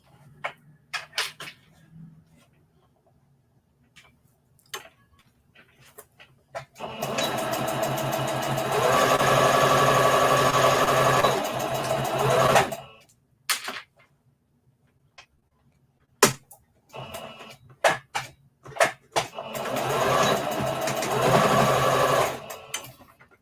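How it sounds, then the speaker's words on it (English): A sewing machine stitches down a fabric Easter bunny treat bag in two sustained whirring runs, separated by a stretch of scattered ticks and clicks from handling, with no talk over the stitching. "I'm just going to sew it down."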